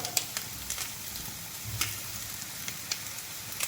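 Shrimp for a Kerala-style special fry are stirred with turmeric powder in a hot pan. The result is a soft, steady sizzle with light scraping clicks from the spoon, fairly quiet and close, with no talking.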